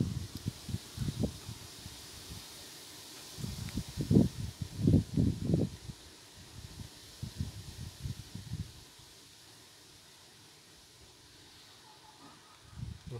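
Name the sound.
strong wind rustling leaves during storm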